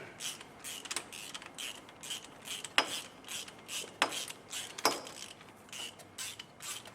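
Bolts being loosened on a Toyota 80/100 Series 4WD during a part-time 4WD kit install, quiet rhythmic ratcheting clicks and creaks repeating in short bursts, with a few sharper metallic snaps.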